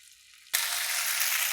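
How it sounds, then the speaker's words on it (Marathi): Green chillies and curry leaves hit hot oil over a low gas flame with a sudden loud sizzle after a short quiet start, then keep frying in a steady, dense hiss. "हे सगळं फ्राय करायचं असा स्लो गॅसवर"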